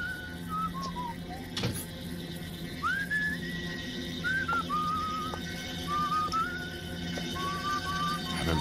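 A man whistles a slow, wavering tune in short phrases over a low background hum, in a scene from the 1985 movie Ninja Terminator.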